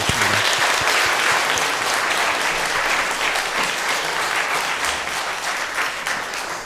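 A congregation at a church's 90th anniversary thanksgiving service claps loudly and steadily, a thick wash of many hands that holds throughout with only a slight easing at the close.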